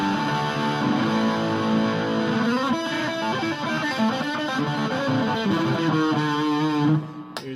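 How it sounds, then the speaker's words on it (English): Squier Telecaster Deluxe electric guitar played through its bridge pickup with high-gain distortion, a loud, continuous run of sustained chords and riffs that cuts off near the end, with no talking. "let's move on to the dirty tones, the high gain stuff"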